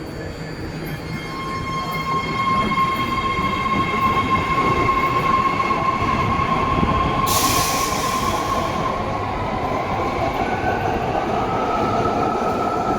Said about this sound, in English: There it is, highballing out of the Coliseum BART station,